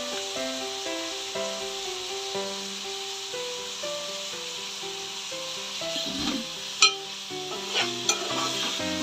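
Chicken pieces with ginger garlic paste and coriander powder are stirred in a pan for biryani, soft scraping and gentle sizzling under background music, with a few sharper knocks of the spoon near the end.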